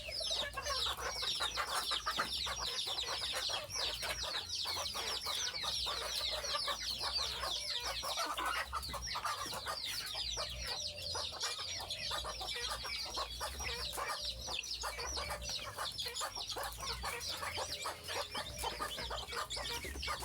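Desi chickens and their chicks on a backyard farm, dense continuous clucking and high chick peeps throughout, fairly close and steady with no talking.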